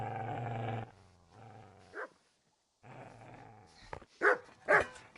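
A dog in the Kingdom Come video game growls low, then lets out a few sharp, loud barks near the end, with quieter rumbling and game sounds between.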